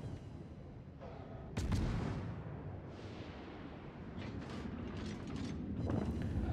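Naval guns of a Farragut destroyer firing in a naval video game, deep booming volleys over a constant low rumble of engine and sea noise, with several distinct blasts spread across the stretch.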